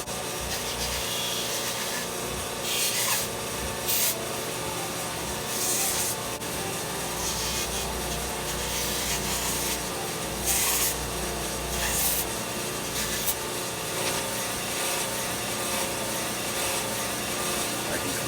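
Wood being shaped by hand into a prop bow produces a steady rasping, rubbing scrape, close and continuous, with brief brighter strokes breaking through now and then.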